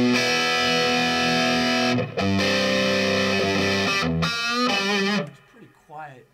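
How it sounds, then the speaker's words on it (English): A Paul Reed Smith guitar amp on its distortion channel, set up on a chair, rings out with thick, sustained overdriven chords and two short breaks before the last chord fades, followed by a brief spoken voice. "hit the button and we'll put the distortion channel on it"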